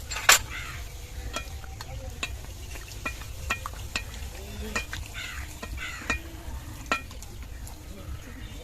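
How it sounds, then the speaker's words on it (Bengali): Luchi frying in hot oil gives a faint, steady sizzle, broken by occasional clinks and taps of a utensil against the pan. "এবার গরম তেলে লুচিগুলো ছেড়ে দিয়ে ভেজে নেব।"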